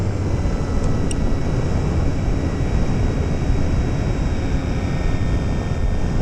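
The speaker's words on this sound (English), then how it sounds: "The plane's already flying a little bit lethargic with only 15 seconds to go." An RC T-28 Trojan model airplane drones in flight, its motor and propeller giving a steady, loud, broadband whir with wind noise throughout and no talk.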